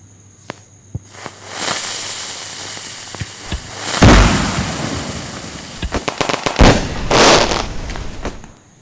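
Diwali firecrackers burst in the Indian Bike Driving 3D video game, with scattered sharp pops building into loud crackling volleys and booming blasts, then a fizzing rush that fades.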